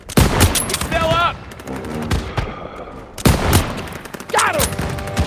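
Bursts of rapid gunfire ring out in Call of Duty: WWII, loud sharp volleys separated by short gaps, with game voices shouting between the shots.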